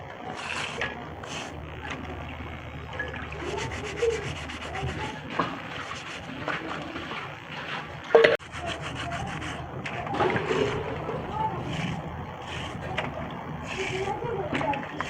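Crabs get scrubbed clean with a brush, producing repeated rough rubbing and scraping strokes at close range, with a sharp knock partway through and voices talking underneath.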